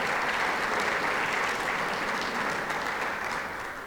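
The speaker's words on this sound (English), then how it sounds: "Give her a round of applause for another successful event." An audience at the 2020 State of the Town event in Fountain Hills, Arizona breaks into dense, sustained applause that fills the room and tapers off slightly at the end.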